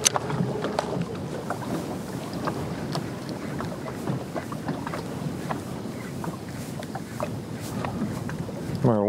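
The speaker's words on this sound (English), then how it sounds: "Wind's starting to come up." Steady wind gusting across open water on the California Delta, a continuous broadband rush with buffeting against the microphone, heard from a small fishing boat with no talking.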